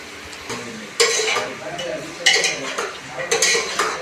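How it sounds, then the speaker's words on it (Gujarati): Potato curry with chilli-garlic, tomato, onion and coriander being stirred in a pan, with scraping spoon strokes and clinks in bursts over a soft sizzle, close and moderately loud. "હવે બરોબરનું મિક્સ કરી લેશે શાક."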